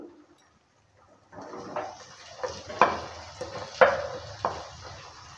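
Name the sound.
stirring fried potatoes and figs in a pan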